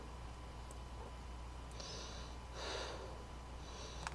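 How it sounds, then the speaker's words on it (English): Heavy, labored breathing from a hiker climbing the steep Beehive trail in Acadia National Park, slow rasping breaths and a sharper gasp over steady outdoor background, no talking. "More heavy breathing."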